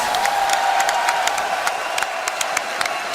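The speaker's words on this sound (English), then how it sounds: "Nestea, big round of applause." Crowd applause and cheering at BlizzCon 2011 during a StarCraft II grand final, a steady wash of clapping with scattered sharp claps and whoops for the full few seconds, heard from a large hall.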